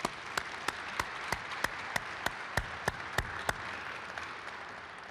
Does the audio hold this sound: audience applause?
yes